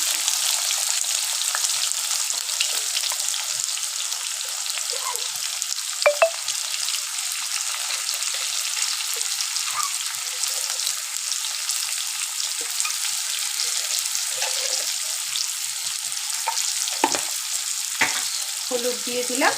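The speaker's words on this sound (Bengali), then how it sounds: "এবার এটাকে খুব ভালো করে ভাজবো।" Potatoes frying with turmeric in oil in a pan for a fish-roe kofta curry, a constant crackling sizzle with occasional stirring knocks and scrapes, close and steady throughout.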